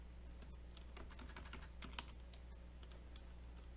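Typing on a computer keyboard while composing an email, a quick irregular run of light clicking keystrokes, close but soft, with no talking.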